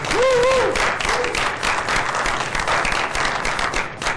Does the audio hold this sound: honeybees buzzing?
no